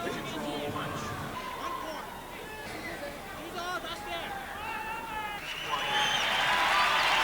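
A crowd at a 1990 Enshin karate Sabaki Challenge match cheers and whistles, a steady babble that swells louder toward the end, with a commentator talking throughout.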